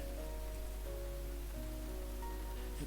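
Rain patters steadily in a soft, continuous hiss, faint and uniform, with no voices over it.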